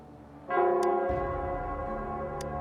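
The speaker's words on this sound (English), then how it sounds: "the Nell Squares bell." Nell Squares bell ringing, a sustained resonant peal with layered ringing tones that starts abruptly, joined by a low rumble, with two brief bright metallic strikes.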